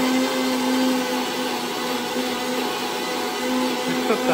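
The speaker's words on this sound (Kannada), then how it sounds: "ಮಿಕ್ಸಿಯಲ್ಲಿ ಗ್ರೈಂಡ್ ಮಾಡ್ತಿದ್ದಾರೆ." A mixer grinder runs in a kitchen, a steady loud whirring motor drone with a constant hum that holds without pause throughout.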